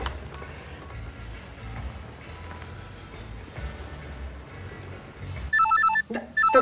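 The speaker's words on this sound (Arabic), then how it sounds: "طب رد على التليفون ده وافتح السبيكر." A telephone rings over a low background hum, the ringtone bursting in loudly near the end as a quick repeating electronic trill.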